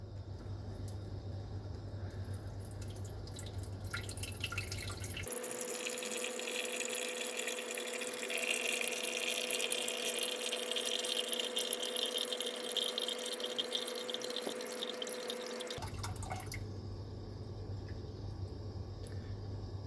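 A small aquarium top-off pump on a reef tank hums steadily while water trickles in for about ten seconds, then cuts off, leaving quiet room noise before and after.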